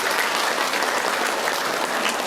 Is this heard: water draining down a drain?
no